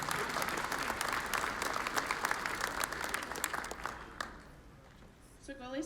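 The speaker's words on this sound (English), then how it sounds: "let's give a round of applause to contestant number 5," Audience at the Miss Indian World 2019 pageant in Albuquerque, New Mexico applauding a contestant, a steady roar of clapping that dies away, followed by a brief voice.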